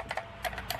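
A few close, distinct key presses on a Rapoo V550 RGB one-handed mechanical gaming keyboard, giving a deep, muffled thock in a quiet room.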